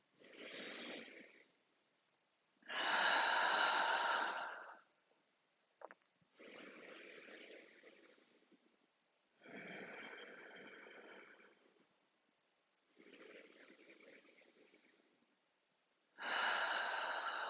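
Slow, deep breaths during a yoga flow alternate between long audible inhales and exhales, each lasting a couple of seconds with quiet gaps between, close and unaccompanied by talk.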